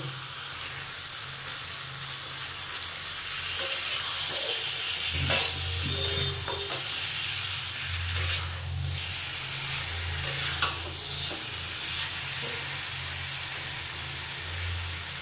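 Jackfruit (echor) curry sautéing in a pan, a steady sizzle under repeated scraping and stirring strokes of a spatula, close and continuous, with no talk.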